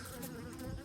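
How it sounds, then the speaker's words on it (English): Black and white wasps buzz around the entrance of a beehive on a farm, a soft, close droning hum that wavers in pitch, heard alone without talk. "Some kind of wasps."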